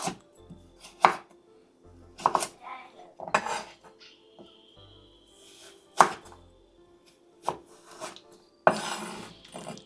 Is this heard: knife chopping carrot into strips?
yes